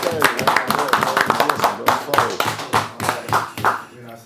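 Hands clap sharply and repeatedly over ongoing talk and laughter at a podcast taping, a quick uneven run of close, loud claps.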